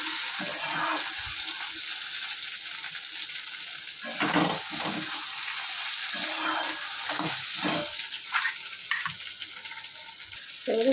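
Spiced curry sizzles and fries steadily in a pan, with a continuous hiss and occasional scraping stirs. No one speaks.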